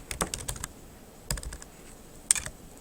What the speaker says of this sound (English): I'm able to type in my responses.